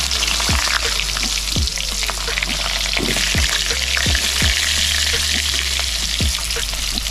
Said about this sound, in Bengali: তো প্রথমে আমি আলুগুলো ভেজে নেব